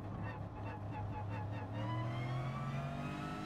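In Gran Turismo Sport, a racing car engine revs close up and loud. Its tone climbs steadily through the gears, and a few quick rev pulses come first.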